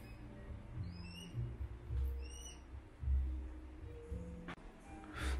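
An owl at an animal cafe in Tokyo gives two short, high squeaky calls over quiet indoor room noise, with light shuffling around it.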